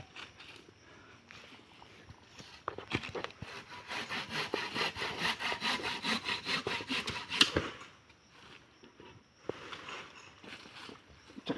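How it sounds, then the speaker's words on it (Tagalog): A hand saw rasps through a Madre de Agua plant stalk in steady back-and-forth strokes, building to a dense run of close sawing before pausing and resuming briefly; no voices. "Kaya ginagamit natin ng lagari guys."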